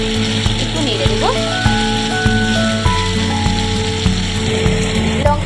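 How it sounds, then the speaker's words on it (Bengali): Chili and ginger paste frying in a pan while it is stirred: a steady sizzle and crackle with tapping knocks from the spoon, under a constant low hum and tonal background sounds. "একটু নেড়ে দেবো।"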